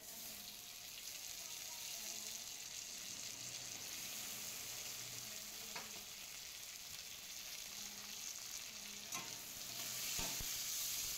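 Chopped tomatoes with turmeric powder fry in a pan for a morola fish curry, a soft continuous sizzle with occasional stirring scrapes, fairly quiet and without talk.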